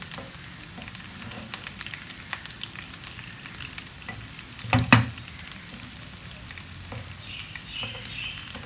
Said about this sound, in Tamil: ஸ்லோவாக தான் குக் பண்ணணும் அப்போ தான் வந்து நம்மளுக்கு கருகாமல் நல்லா வெந்து வரும்